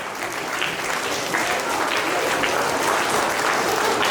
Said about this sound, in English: Please give him a clap because at least he's honest.